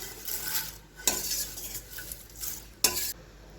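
Curry leaves roast in a pan, stirred with a utensil in a few sharp scraping strokes over a faint, quiet crackle.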